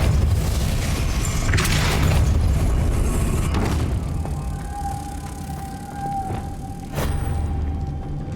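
A Depulso spell fires in Hogwarts Legacy, sending out a deep, rumbling magical boom that swells and fades, followed by a faint whining tone and a second, sharper burst.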